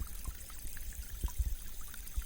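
A small stream flows and trickles steadily at close range, with soft gurgles and low splashes over a constant watery hiss and no voices.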